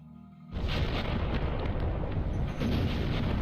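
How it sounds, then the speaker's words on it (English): A loud explosion bursts out after a short quiet lead-in in the video game Legacy of Kain: Blood Omen 2, followed by a sustained rumbling roar of blast and debris that holds steady to the end, with no talk. "And we have a mini nuclear explosion, because that makes sense."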